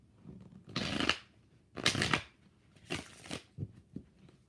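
Tarot cards are shuffled in three quick riffling bursts with short pauses between them, close and fairly quiet, followed by a few faint taps.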